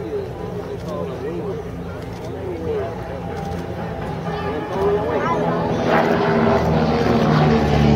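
A Robbe Airbull RC flying wing buzzes overhead on its propeller, the whine rising and growing louder toward the end as it climbs, with people talking over it.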